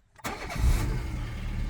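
Peugeot 207 car engine starting: a short crank catches almost instantly and settles into a close, steady idle.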